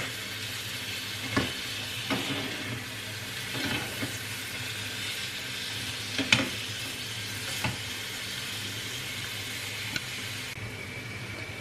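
Chopped onions sautéing in butter and oil for a Turkish Anatolian soup, a steady soft sizzle with occasional stirring knocks throughout, close and alone with no voices.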